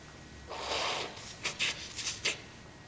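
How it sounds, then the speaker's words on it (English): A single person's sniffle in a quiet room, a soft breathy nasal intake followed by a few short sharp sniffs, close and alone. "Sorry for the sniffle, folks."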